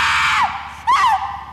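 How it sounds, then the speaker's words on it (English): Two shrill screams ring out in the GTA 5 video game, the first sliding downward and the second rising sharply then falling, loud and close with no talking over them. "Another scream."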